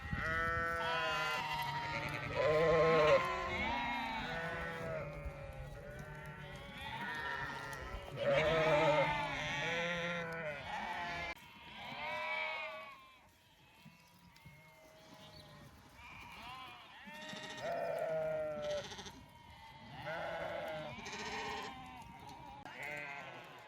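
A flock of Akkaraman sheep bleats repeatedly on the slopes of Mount Ağrı, many overlapping calls near and far, coming in bursts with short lulls between.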